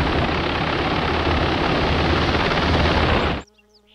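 A medevac helicopter arrives during a squad attack simulation, its rotor and engine a loud, dense, continuous roar up close that cuts off abruptly near the end.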